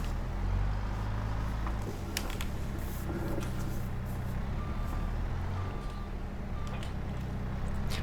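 A truck in Farming Simulator 22 reverses toward a trailer to hitch up, its low engine rumbling steadily beneath repeated reversing beeps and a brief hiss like an air brake.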